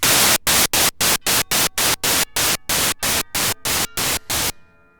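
A Korg ARP 2600M synthesizer's noise generator puts out loud white-noise hiss in about fourteen rhythmic, evenly spaced bursts with short gaps between them, then cuts to a faint fading tail.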